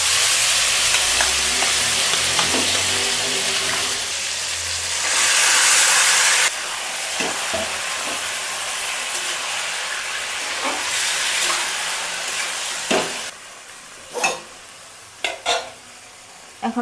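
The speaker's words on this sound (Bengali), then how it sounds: "তেল গরম হয়ে গেছে, তেজপাতা দিয়ে দেব। মাংসগুলো দিয়ে দেব তেলে।" Duck meat pieces dropped into a little hot oil with bay leaves for a duck curry with pumpkin, giving a steady close sizzle and fry hiss throughout, with stirring scrapes and a few sharp clinks near the end.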